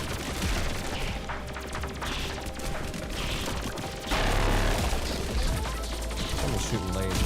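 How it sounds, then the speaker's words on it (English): Rapid, dense laser shots from the video game The Binding of Isaac fire in continuous bursts over busy game effects, with a voice talking faintly underneath. "I'm shooting lasers."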